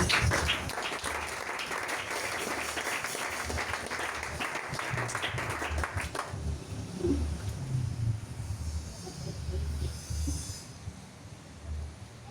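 A church congregation claps and cheers in acclaim of Jesus: dense, broadband applause for about six seconds, then it falls away into quieter room murmur and low rumble.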